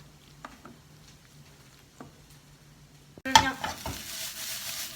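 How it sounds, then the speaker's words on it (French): Onions and melting gruyère frying in a pan, first a few quiet taps, then a sudden loud sizzle and scraping as they are stirred, with the sizzle continuing close by. "Je vais rajouter mon gruyère. Je vais aller remuer mes oignons."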